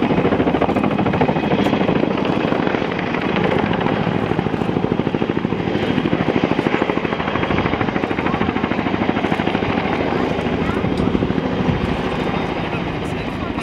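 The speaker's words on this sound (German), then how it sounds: "Vertol 107 kommt von links nach rechts das erste Mal offiziell in der Schweiz vorgeführt an einer Flugvorführung." A Vertol 107 twin-rotor helicopter flies past at a Swiss air show, its loud, steady rotor chop and turbine roar filling the air as it crosses from left to right, with an announcer talking over it.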